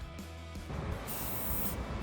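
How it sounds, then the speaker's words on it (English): Silver Rust-Oleum spray paint hisses steadily from the can onto a scratch-built robot model's outer skin, a continuous broadband spray that starts after a short pause and runs on without talk. "When applying the silver spray paint,"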